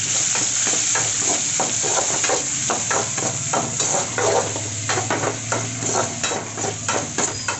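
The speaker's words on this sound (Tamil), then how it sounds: "வதக்கிட்டு அடுத்தது நம்ம ஒரு வெங்காயம் போட்டு சேர்த்துக்கலாம்." Onion sizzles in a pan for cauliflower kurma, a continuous bright frying hiss broken by repeated clattering scrapes of stirring against the pan.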